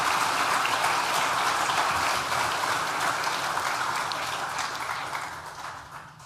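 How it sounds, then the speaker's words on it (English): Sustained audience applause fills a graduation ceremony hall, dense and even, with many hands clapping together before it gradually fades toward the end. "Please join me in thanking them with a well-deserved round of applause."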